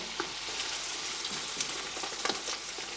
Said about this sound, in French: Quand mon beurre va être blond, bien blond, je mets mes morceaux de poulet à dorer.